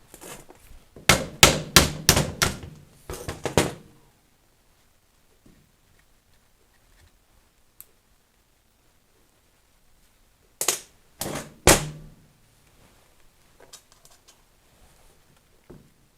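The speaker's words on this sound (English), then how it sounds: "see if we can tap the bolts out" Metal hammer taps knocking seized splined bolts out of a Magneti Marelli alternator from a 300Tdi, sharp close strikes in two rapid bursts separated by a long quiet gap.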